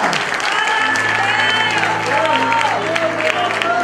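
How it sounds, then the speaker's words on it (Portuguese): Church congregation applauding during a sermon, loud clapping mixed with voices and cheering, with tonal sounds like singing or shouting over it. "Pode aplaudir mais forte, querido"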